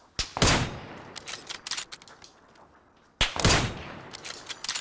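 Two sharp bursts of enemy gunfire in PUBG Mobile crack out about three seconds apart, each followed by a scatter of quicker shots and echoes, fairly loud with no talk.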